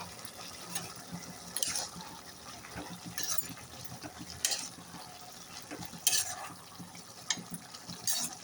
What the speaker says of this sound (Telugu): అప్పుడప్పుడు బీరకాయ కర్రీని ఇలా తీసి కొద్దిగా మిక్స్ చేసుకోవాలి.